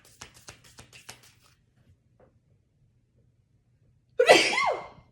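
A single loud, close human sneeze bursts out near the end, following a few soft taps and rustles and a stretch of near silence.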